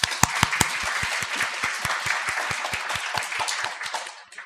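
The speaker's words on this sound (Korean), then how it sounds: "이 시간에 한번 영광의 박수 올려드리고 싶습니다" Applause from a church congregation at a Sunday worship service, with rhythmic unison claps keeping a steady beat over a bed of general clapping that fades out at the end.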